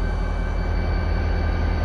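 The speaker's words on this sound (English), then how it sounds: "He sees a train and he likes it." A GP40-2 locomotive-hauled train rumbles past continuously in Charleston, West Virginia, a loud, dense roar with rhythmic low clacking throughout and no voices.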